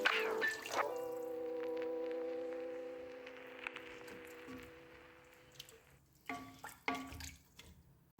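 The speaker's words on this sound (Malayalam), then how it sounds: "വെള്ളം എടുത്ത് വെച്ചിട്ടുണ്ട്, അതങ്ങ് ഒഴിച്ചു കൊടുക്കാം." Water poured from a vessel into a pot of half-cooked chicken for South Indian chicken biryani, a steady close pour lasting several seconds with a brief splash at the start and clinks of the pot afterwards.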